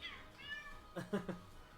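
A domestic cat lets out a short meow, close and fairly faint, a brief two-part cry over quiet background hiss.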